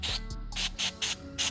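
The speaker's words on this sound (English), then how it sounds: "Now I'll spray a bit of brake clean in there" Short bursts of brake cleaner sprayed into a hole on a 2004 Kawasaki KLX110 in a workshop, several quick close hissing spurts with brief gaps between them.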